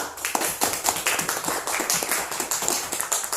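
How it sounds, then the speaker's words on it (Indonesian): A small group of students claps for a classmate during a Quran lesson, light uneven handclaps in a quick irregular patter, close and fairly faint, with no voices. "Kita beri tepuk tangan kepada teman kita Ica"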